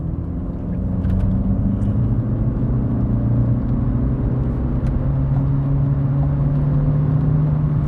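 Volkswagen Lupo GTI hatchback heard from inside the cabin while driving, a steady, loud low engine drone and road rumble running continuously with a slight rise in pitch, no voices.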